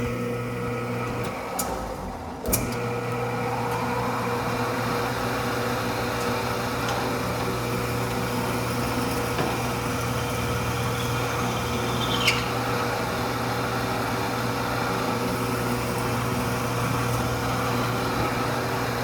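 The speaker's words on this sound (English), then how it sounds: "we drill the axle holes, which is just a little over 1/4 inch" A drill boring axle holes just over 1/4 inch wide in a wooden toy runs nonstop at close range, a steady high motorized whine with a brief bump near the start and no talking.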